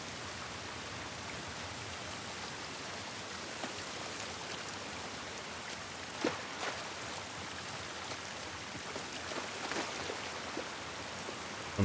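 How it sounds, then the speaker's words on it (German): Steady video-game rain from The Last of Us Part 1 on PS5 hisses evenly throughout, with a few louder drops and splashes standing out now and then. "Dieser Regen ist nicht gut für uns."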